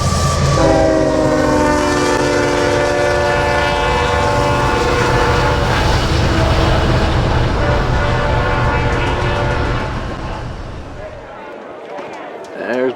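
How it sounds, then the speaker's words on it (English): The Union Pacific 4014 steam locomotive approaches close by, its horn sounding loud and sustained over a heavy rolling rumble, then fading toward the end as voices speak nearby. "Here comes the train."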